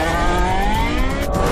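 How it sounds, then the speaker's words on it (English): A Porsche 918 Spyder hybrid sports car engine roars loud and close, a dense sustained growl with slowly rising tones. "The result? The Porsche 918 Spyder."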